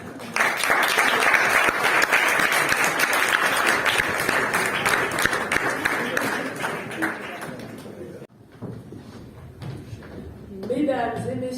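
Audience applause at a 2024 baccalaureate event, a dense, loud burst of clapping that rolls on for about eight seconds before cutting away to quieter room sounds and a brief voice.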